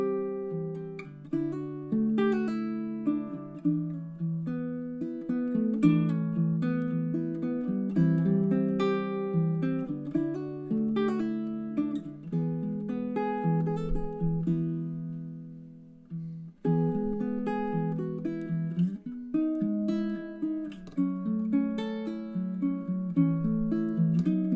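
Baritone ukulele plays the original fingerpicked tune Old and New, a gentle melody over chords with plucked notes ringing softly, close and alone, with a brief pause partway through.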